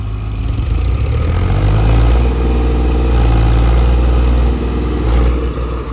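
The engine of an Eicher 557 4x4 tractor working through mud runs loud and close, a heavy continuous rumble that strains slightly harder in the middle before easing.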